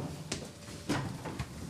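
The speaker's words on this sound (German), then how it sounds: "Herr Schneider, mach nochmal Tür auf" A door being opened indoors: a few short, fairly loud knocks and rattles of a handle and latch, spaced about half a second apart, with no talk.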